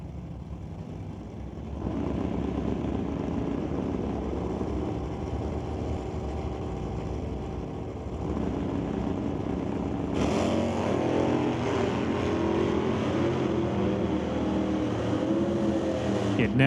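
Two drag cars, a 1979 Malibu wagon and a 1966 Bel Air, roar loudly and continuously at a drag strip, their engine noise swelling partway through and staying strong to the end.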